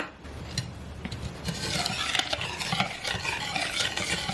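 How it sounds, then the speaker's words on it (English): A spoon gently stirs flour into a small batch of brownie batter, giving a continuous soft scraping and swishing against the bowl, close and steady without talk. "And then just gently stir that in."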